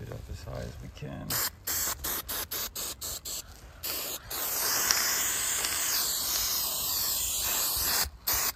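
Short bursts of aerosol spray adhesive, then a long steady hiss of spray, with faint handling noises and a brief pause near the end.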